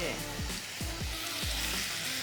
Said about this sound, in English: You will have the slight sizzle.